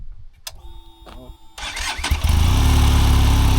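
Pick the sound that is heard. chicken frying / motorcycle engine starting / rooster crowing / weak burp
motorcycle engine starting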